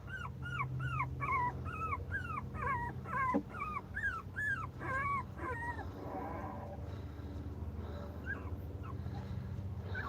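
Three-week-old puppies whimper and yip in a run of high, rising whines close by, with quieter whimpers trailing off near the end.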